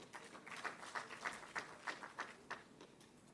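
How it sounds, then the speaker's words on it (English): A few hands clapping in a loose rhythm at a ministerial 2023 budget presentation, faint and somewhat distant, with individual claps spaced roughly every third of a second. "Please, a round of applause to them."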